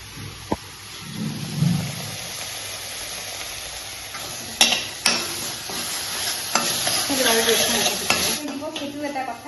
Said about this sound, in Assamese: পিঁয়াজখিনি তেতিয়ালৈকে ভাজি থাকিব